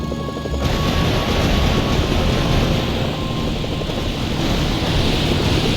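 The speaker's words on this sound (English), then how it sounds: "Planes are inbound on your position." Loud, steady roar of military aircraft sweeping overhead in Mercenaries: Playground of Destruction, a dense, continuous engine wash with no pause and no talking.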